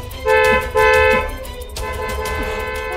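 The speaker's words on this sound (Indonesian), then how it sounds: "Bunyikan klakson." A car horn honks loudly twice in short blasts, followed by a softer, longer toot over low road rumble.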